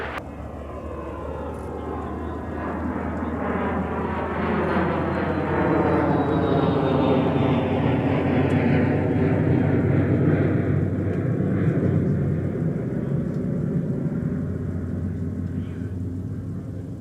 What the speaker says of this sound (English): Here's our Marvin Windows Cessna citation